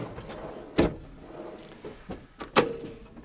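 Drawers in a Dethleffs Beduin Scandinavia caravan slide and bump shut: two sharp knocks stand out among softer rattles and thuds, close by and with no talking over them.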